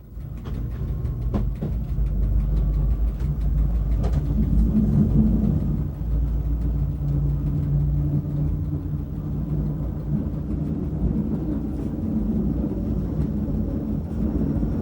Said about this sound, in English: Our train must now gain height rapidly to climb up the valley side